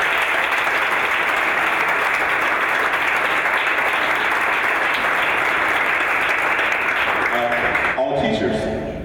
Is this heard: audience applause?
yes